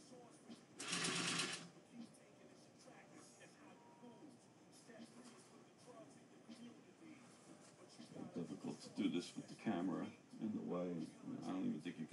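A sewing machine stitches a hat brim in short bursts, with one loud whirring run early and a cluster of busier stitching near the end, while a person talks quietly in between.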